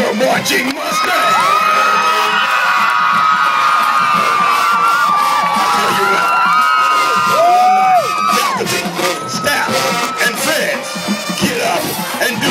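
A large crowd cheers, whoops and yells at a football game with a marching band, loud and continuous throughout, with shouting voices rising over the roar.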